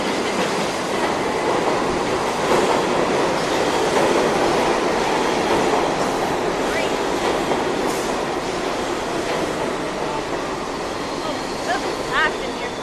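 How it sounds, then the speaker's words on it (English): A New York City subway train in Queens roars loudly and continuously at close range as it arrives along the platform, with rumbling wheels, rattling cars and faint squeals throughout. "Hey, subway coming."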